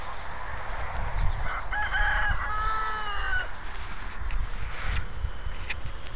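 A rooster on a garden lawn crows in one drawn-out, fairly distant call over steady outdoor background noise.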